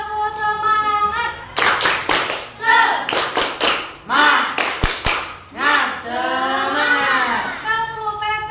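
Group of teachers doing a rhythmic clapping chant, crisp bursts of claps in set patterns alternating with voices chanting in unison, close and lively.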